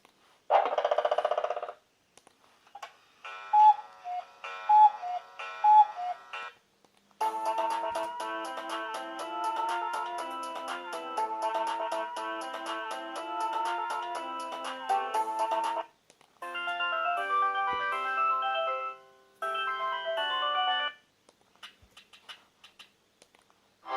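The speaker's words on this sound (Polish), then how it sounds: "przejdziemy sobie do naszych oryginalnych dźwięków tego telefonu" A series of different Sony Ericsson W800i mobile phone ringtones plays one after another, melodic electronic tunes and beeping patterns at moderate volume, with short gaps between them.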